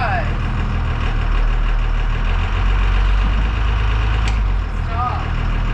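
An old bus engine, started for the first time after winter, rumbles with a deep, loud, knocking drone as the bus pulls away, steady and close, with faint chirping squeaks near the beginning and end.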